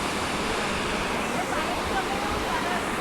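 A steady torrent of water runs beneath the Shri Loteshwar temple at Dugwe, its loud, unbroken rush sounding like a waterfall, with distant crowd voices faintly blended in.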